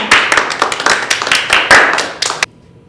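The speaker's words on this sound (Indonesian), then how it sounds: "Kasih tepuk tangan buat kuasa Tuhan yang luar biasa" Clapping at a Sunday school session, a small group of hands striking in quick, uneven bursts, close and crisp, stopping abruptly into near silence after about two and a half seconds.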